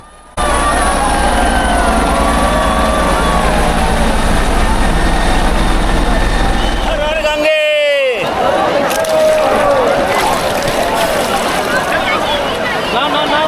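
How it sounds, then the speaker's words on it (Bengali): A helicopter flies over the Maha Kumbh Mela at Prayagraj, showering flowers on the bathing ghats at the river confluence. Its loud, steady roar fills the air with a swooping pitch shift midway as it passes, and crowd voices sound beneath it. "দেখলাম হেলিকপ্টার থেকে পুষ্পবৃষ্টি হচ্ছে"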